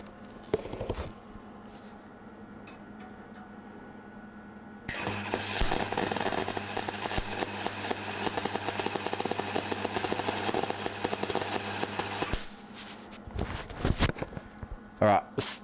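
A cheap wire-feed welder with its voltage turned up buzzes and crackles steadily for about seven seconds, loud and close, between quieter stretches of handling noises and clanks.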